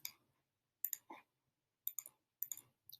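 A computer mouse clicking in quick pairs and short bursts, four or five crisp, close clusters separated by silence, with no talk.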